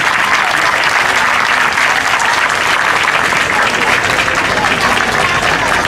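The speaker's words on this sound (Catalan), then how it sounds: "Per tots ells, un fort aplaudiment." Dense, loud applause from a crowd at a town festival proclamation in Puig-reig, continuous and steady for the whole stretch, with no pause in the clapping.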